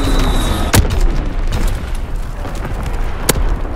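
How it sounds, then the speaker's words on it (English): Naval primary battery guns firing in the video game Call of Duty: WWII: two sharp, loud blasts a few seconds apart over a steady rumbling battle bed. "Firing primary battery."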